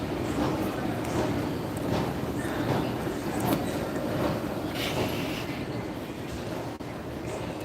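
Train number 6655 bound for Dover passes close by with a steady, loud rolling rumble and wheel clatter that fills the whole span, with light wheel squeal on top.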